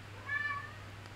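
A house cat gives a single short meow, fairly close and clear, over a steady low electrical hum.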